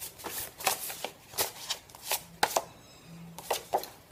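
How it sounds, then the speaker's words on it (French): Small work cards shuffled by hand, a series of quick papery riffles and taps in irregular bursts, close and fairly soft with no one speaking. "Alors moi j'avais envie de prendre mes petites cartes du travail."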